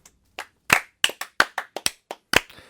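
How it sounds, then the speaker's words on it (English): A small handful of people clapping briefly, about a dozen sharp, uneven claps spread over a few seconds, close and dry, with no cheering. "That's the smattering of applause that we deserve"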